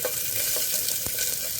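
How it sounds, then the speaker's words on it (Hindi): Garlic and onion fry in hot coconut oil, a soft, steady sizzle with light stirring scrapes, heard close and quiet without talk. "लीजिए, गरम हो गया, तो अब हम इसके अंदर डाल रहे हैं गार्लिक और प्याज"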